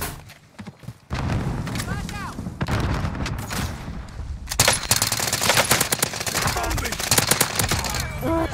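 Gunfire in Call of Duty Modern Warfare, loud bursts and rapid automatic fire after a quieter start, nearby shots and thumps mixed with players talking over them.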